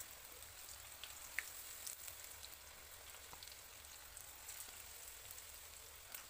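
Chicken pieces frying in oil in a kadai for chili chicken, a steady soft sizzle and crackle with scattered pops, fairly quiet and continuous with no talk.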